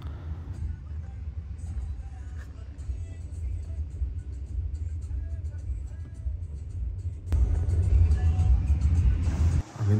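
A car driving home through fog, a steady low engine and road rumble heard from inside the cabin, growing louder and heavier near the end, with faint voices underneath.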